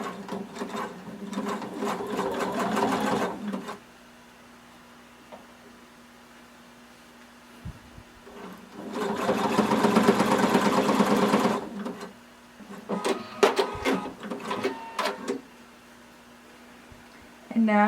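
A sewing machine stitches a leg casing over elastic in bursts of rapid, even whirring, pausing between runs and stuttering through bumpy seam allowances, while someone talks over it.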